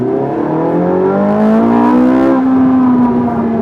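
A Ferrari 458 Italia engine revs up hard in second gear, its pitch rising steadily into a loud, throaty roar with no talking.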